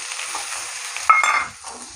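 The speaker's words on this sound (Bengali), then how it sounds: "পেঁয়াজগুলো একটু আলুর সঙ্গে ভেজে নেবো" Onions frying with potatoes in a pan give a steady close sizzle, with a brief scrape and louder crackle as they are stirred, in a Bengali village kitchen.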